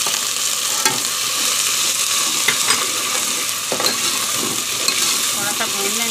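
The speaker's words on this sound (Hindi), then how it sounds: "थोड़ा सा भून लेंगे" Green chili-ginger paste and garlic paste frying in a pan for an arvi masala, a steady close sizzle with occasional stirring scrapes, no talk over it.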